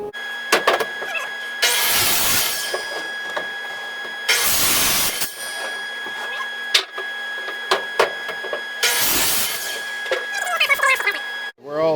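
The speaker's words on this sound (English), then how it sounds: "We've got the planer and the sander going." Woodworking planer and sander running together with a dust collection vacuum while boards for a picnic table are milled, a steady loud mechanical drone with three surging bursts as boards feed through.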